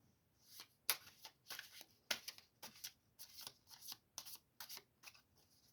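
Tarot cards are shuffled by hand, a series of quick, crisp riffling bursts in an uneven rhythm, close and fairly soft in a quiet room.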